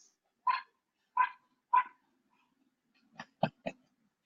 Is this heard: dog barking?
yes